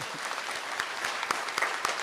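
An audience claps together in a sustained round of applause, with a few sharper individual claps standing out near the end; moderately loud and steady, with no speech over it.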